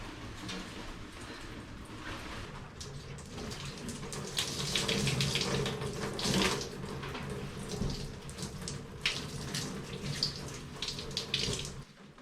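Water runs steadily from a tap as a 37-year-old wedding dress is rinsed, a continuous close splashing and gushing that swells in the middle and trails off at the end, with no talking.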